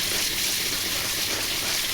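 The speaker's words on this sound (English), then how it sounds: "trying to rinse out some tie-dyes for the people." Tie-dye shirts are rinsed outdoors under running water, producing a steady, close gushing hiss that flows evenly without pause and with no voices over it.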